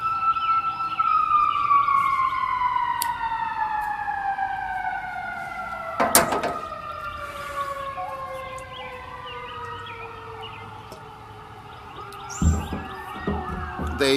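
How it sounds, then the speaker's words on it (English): Emergency vehicle sirens wail and sweep in long falling and rising tones, several overlapping at moderate distance, with a couple of sharp bangs mixed in and no talk. "Listen to those sirens."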